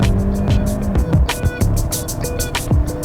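A Hyundai Santa Fe with the gasoline Theta II turbo four-cylinder and eight-speed automatic drives along, its steady engine drone and road noise filling the cabin while someone talks over it.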